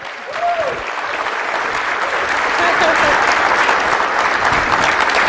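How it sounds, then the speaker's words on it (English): Enthusiastic applause from a sizable conference audience at Circle City Con 2016 swells and holds strong throughout, with a few voices calling out over the clapping. "why don't we give a round of applause for Dave and Renee for putting this on"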